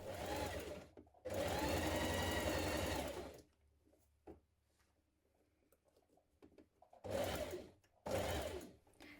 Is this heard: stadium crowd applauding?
no